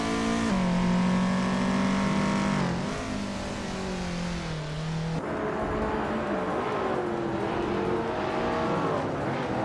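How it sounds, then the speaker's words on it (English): A 1970 Ford Mustang muscle car races with a loud, steady engine drone. The pitch holds, dips and shifts as it revs through gears, with no voices. "Skeksis Beaupre is racing a 1970 Ford Mustang, a classic muscle car."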